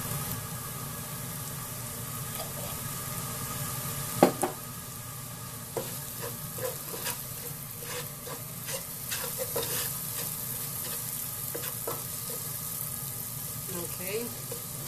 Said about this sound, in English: Now these seasonings, spices, whatever, is start to cook up a little bit